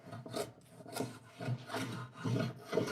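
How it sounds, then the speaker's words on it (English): A poorly tuned hand plane shaves across wood on a curved waterfall joint in rough, rasping strokes, four or five uneven passes, close and loud with no talking. "hand planer I'm using just isn't tuned enough"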